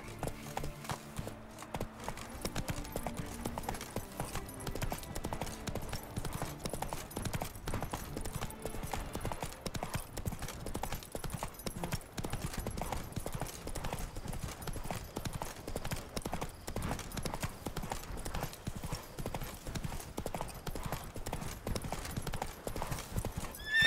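Horse hooves clip-clop steadily through a ride in the game The Witcher 3: Wild Hunt, Blood and Wine, the rhythmic beats running continuously under dense game music and ambience, with a brief neigh.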